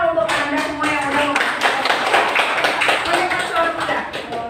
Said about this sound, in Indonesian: tepuk tangan untuk Anda semua